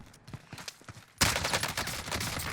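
Gunfire in the Call of Duty Warzone video game: a few quiet scuffing steps, then a sudden loud, dense burst of rapid shots that keeps rattling to the end.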